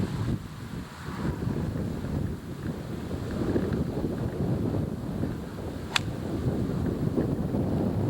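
Strong, brutal wind buffeting across an open golf course, a loud continuous roar and rumble of gusts against the microphone, broken once by a brief sharp click.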